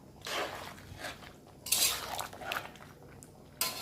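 Mutton being stirred and braised in a pot without added water, with a metal spoon scraping and clinking against the pot in uneven bursts, close and moderately loud, with no talking.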